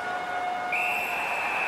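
A referee's whistle in the NHL 17 hockey video game, one sustained shrill tone that rises in pitch partway through, over a steady arena crowd murmur.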